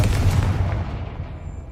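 A Confringo fire spell blast in Hogwarts Legacy erupts as a loud, booming explosion that rumbles and fades over about a second.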